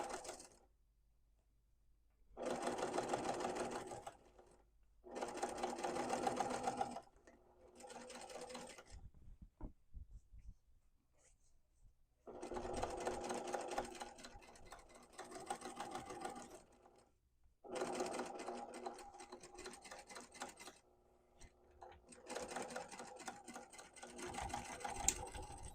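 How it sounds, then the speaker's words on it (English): A sewing machine stitches bias binding along the side of a beginner quilted market tote, running in five or six steady bursts of several seconds each, separated by short quiet pauses, fairly close and with no talking. "And then we're going to sew all the way up this side."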